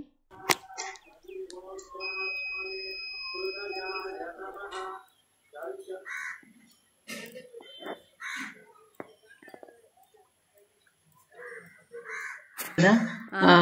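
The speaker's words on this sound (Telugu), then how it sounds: "మా ఊర్లో అయితే కాకుల గోల ఎక్కువగా ఉంటుంది" Crows cawing in an Indian village, harsh repeated calls close by mixed with other bird chirps and scattered knocks, with a faint tonal whistle in the background.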